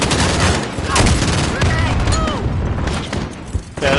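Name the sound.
grenade explosion amid gunfire in video game Modern Warfare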